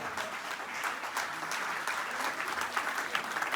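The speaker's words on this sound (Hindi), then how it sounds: "जबरदस्त तालियां होनी चाहिए" An audience in a hall claps loudly and continuously, a dense, sustained roar of hands with slight swells in intensity, close and alone with no voices on top.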